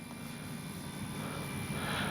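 Dynam F6F Hellcat RC warbird model plane flying over a runway, its propeller motor a steady drone held at an even level throughout, with no talking.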